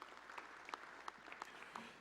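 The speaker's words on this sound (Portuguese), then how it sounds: "uma salva de palmas também à nossa academia" Faint, steady applause from a seated audience at a formal solemn session in São Paulo, a dense patter of many hands clapping evenly for two seconds with no voices over it.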